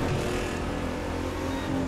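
A Nissan GT-R engine roars in the racing game The Crew 2, giving a short, steady, buzzing drone at moderate volume that lasts under two seconds.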